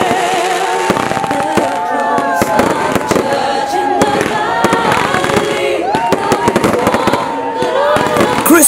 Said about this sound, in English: Christmas in Anambra is a carnival of color and fireworks that starts with glorious blast into the night skies